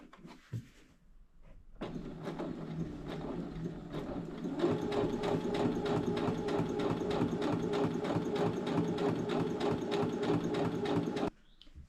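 A sewing machine stitches layers of fabric for an insulated dog blanket, running in one long steady rhythmic burst of rapid needle strokes after a short pause and a click, close and loud, then stopping abruptly.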